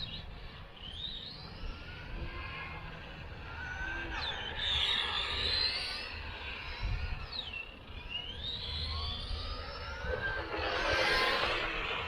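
Tamiya Buggyra Eurotruck radio-controlled truck running laps on a local track, its small electric motor whining up and down in pitch as it accelerates and passes, fairly quiet with outdoor background noise.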